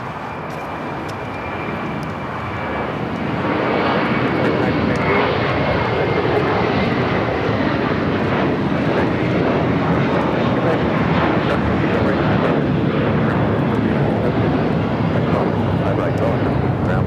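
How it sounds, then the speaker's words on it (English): A JetBlue Airbus A321 takes off from LAX's south side, its engine roar rising within the first few seconds into a loud, sustained broadband rumble and whine that holds steady to the end. "Next takeoff here on the south side is a flight heading to JFK, flight 524."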